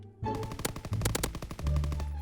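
Shotgun blasts ring out in a Call of Duty WW2 match, with several loud shots fired in quick, uneven succession and heavy booming echoes.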